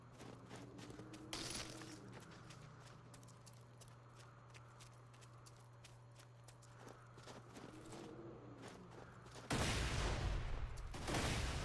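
Pistol gunfire in the video game Borderlands 2, a scattering of sharp shots over steady game ambience and footsteps, ending in a loud sustained burst of noise.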